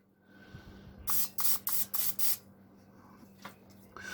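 Cooking oil is sprayed onto chicken wings in five quick, evenly spaced hissing bursts at close range in a quiet kitchen, followed by a faint clink.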